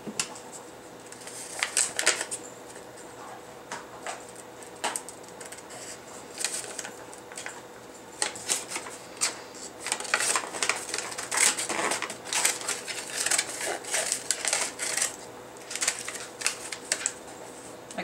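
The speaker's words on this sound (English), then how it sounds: "I try to go inside the lines to cut, and I cut fairly slowly so that I can see what I'm doing." Scissors snipping through damp, recycled paper puzzle pieces, slow and careful cuts along drawn lines, heard as soft, close, irregular clipping sounds with scattered quiet rustles and no talking.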